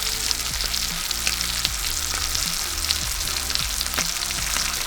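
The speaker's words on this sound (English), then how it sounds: "See how we got a nice sizzle going there when we dropped it?" Cajun-seasoned walleye fillets frying in a pan give a loud, constant crackling sizzle close up, dense and unbroken from start to finish with no voices.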